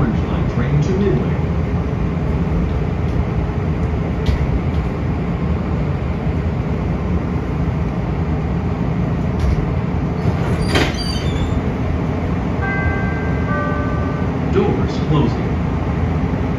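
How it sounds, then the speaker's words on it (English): Chicago CTA Orange Line train running between downtown Loop stations, a steady close rumble of wheels and motors with brief squeals and chimes, heard from inside the car. "This is an Orange Line train to Midway."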